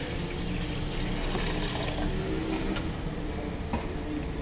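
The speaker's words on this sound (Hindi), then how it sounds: "ये मैंने कढ़ाई रख दी है और इसमें पानी डालेंगे।" Water poured into a kadhai (wok) for boiling apples for murabba, a steady broadband splashing and rushing stream lasting throughout, fairly close and even in level with no talk.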